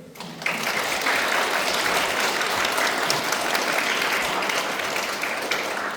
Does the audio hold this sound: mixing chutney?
no